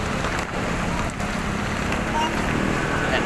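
Steady rain falls during a flood that has left vehicles stranded, a dense, even hiss filling the whole stretch at constant loudness with no clear gaps.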